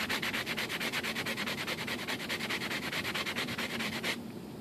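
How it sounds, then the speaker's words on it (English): A sanding block rubs back and forth across a plastic part of a model Airbus A380 inboard main landing gear being shortened, making steady rhythmic rasping strokes up close that stop abruptly near the end. "It's got the sanding block."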